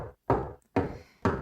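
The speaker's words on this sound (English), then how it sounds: "The friend in front knocked on the door" Three firm hand knocks on a metal door, evenly spaced and close, each with a resonant, slightly ringing thud.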